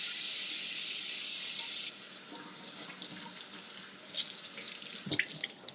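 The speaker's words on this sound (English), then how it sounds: "I'm going to wash my hands and wash our pepper" Tap water runs steadily into a sink as hands and a poblano pepper are washed, a loud, even stream at first that softens into splashing and dripping as things pass under the flow.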